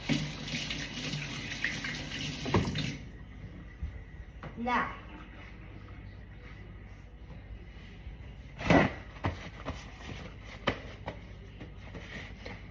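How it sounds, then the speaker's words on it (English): Tap water runs into a kitchen sink as hands are washed after handling raw chicken. The stream is loudest at the start, then gives way to intermittent splashes and knocks while a person talks throughout. "proceed the process of washing our hands"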